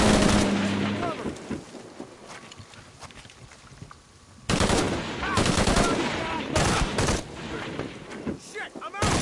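Rapid gunfire from a gun in Shadow of the Tomb Raider comes in loud bursts of close, sharp shots after a quieter stretch, with game ambience between volleys.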